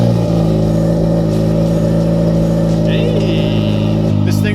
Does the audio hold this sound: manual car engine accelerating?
yes